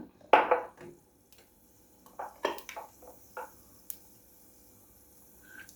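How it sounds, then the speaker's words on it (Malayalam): Mustard seeds tossed into a heating pan for a mango and carrot pickle, giving a soft burst of crackle and sizzle followed by several small scattered pops and clinks. "ഇനി നമുക്കുണ്ടല്ലോ കടുക് ഇട്ട് കൊടുക്കാം"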